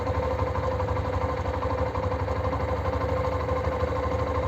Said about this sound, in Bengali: আপনারা শব্দ শুনতে পাচ্ছেন যে বাইকটি স্টার্ট অবস্থায়